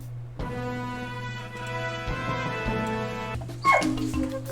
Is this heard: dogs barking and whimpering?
yes